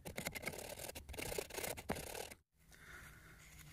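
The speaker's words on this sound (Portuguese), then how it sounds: "E vamos limar." A hand file rasps back and forth across a pipe during a plumbing leak repair, in quiet rhythmic strokes that stop abruptly partway through, leaving faint room noise.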